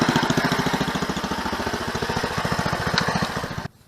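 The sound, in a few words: 1979 Ariens snowblower engine running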